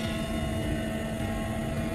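Helicopter in flight, a steady loud rotor and engine drone with a constant hum, heard continuously and close with no break.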